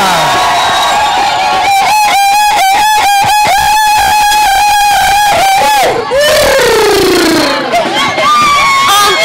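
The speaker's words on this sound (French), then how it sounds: "Avec des cris de joie." A crowd of children at a Christian holiday camp shouts together in loud, sustained joyful cries, rising to a rhythmic pulsing chant before trailing off into scattered excited voices.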